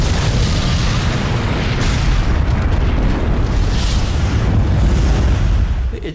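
The battleship Hood blowing up after a hit from the Bismarck's shell, a huge continuous roaring blast with deep rumble and crackling debris sustained throughout, fading slightly at the end.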